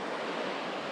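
A river with a strong current in the North Karelia backcountry of Finland rushes past in a steady, dense roar of flowing water, continuous and fairly close, with no voices.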